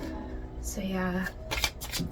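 Tarot cards shuffled by hand, a riffling, flapping burst of card noise near the end, close, with a person talking over it throughout.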